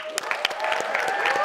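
Applause from an audience greeting Issa Rae at a panel event, a fairly soft patter of clapping hands with a few sharper near claps, steady and unbroken across the moment.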